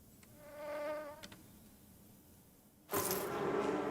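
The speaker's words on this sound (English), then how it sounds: "Oh, I forgot about the bees," In the video game Farmer's Life, an insect-like bee drone hums and wavers for a moment, fades, and then a harsh burst of loud broadband noise takes over.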